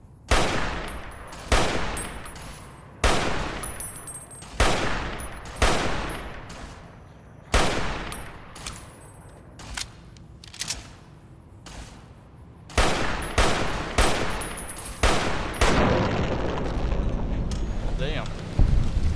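Rapid bursts of gunfire with armor-piercing rounds in Fallout: New Vegas, repeated loud sharp shots in clusters with short pauses between, up close, with a voice talking in places.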